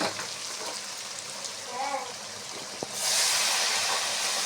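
Water poured into a pan of koi fish frying in oil: a soft sizzle and bubbling turns suddenly into a loud, steady roaring hiss that holds to the end.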